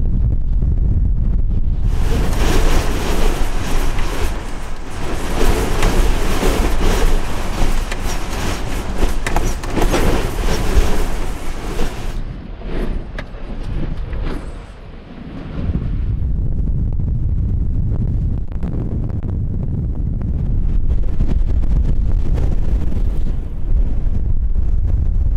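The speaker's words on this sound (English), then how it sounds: "I like it if the wind was not blowing so hard" Strong wind gusting across open Utah backcountry, buffeting the microphone with a loud continuous roar that rises and eases slightly but never drops away, with no speech over it.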